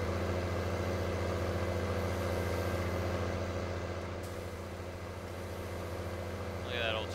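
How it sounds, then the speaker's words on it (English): A tractor engine drones loudly in Farming Simulator 19, a steady low mechanical roar holding throughout with a slight dip and swell, joined by a brief faint squeal near the end. "You can hear the tractor just roar."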